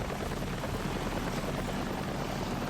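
Helicopter in Daymare 1998, a constant broadband whirring roar with rapid rotor chop, steady and fairly close for the whole span.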